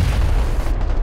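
A grenade blast in PUBG, a single loud, close, low-heavy boom that fills the whole moment and rumbles briefly as it fades.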